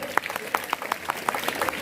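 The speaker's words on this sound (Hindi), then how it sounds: "जोरदार तालियां इस लड़की के लिए।" Sparse applause from a school audience at an Independence Day event, scattered claps at uneven intervals, moderately close, with a voice talking over them.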